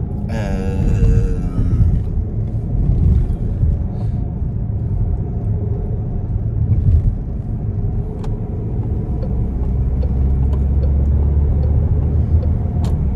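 A car moving through city traffic, a steady low engine rumble and road noise heard from inside, with brief passing sounds and a faint voice early on.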